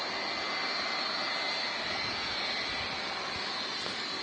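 A Boeing 767 airliner with CF6 engines roars just after touchdown at Manchester Airport, a loud, steady broadband jet rush with a high whine running throughout, no voices over it.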